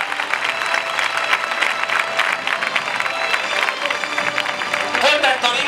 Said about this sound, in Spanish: Fuerte el aplauso para el primer toro de la campana.